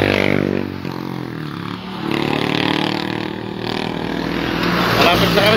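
A motocross motorcycle engine rumbles and revs nearby, a gritty continuous drone with shifting pitch, partly under people talking.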